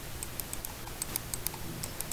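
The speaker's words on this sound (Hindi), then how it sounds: "इसके क्लिक्स बहुत ही साइलेंट एंड स्मूथ हैं।" A Logitech B100 mouse gives quiet, soft button clicks, about a dozen light taps in an uneven rhythm, heard close and alone.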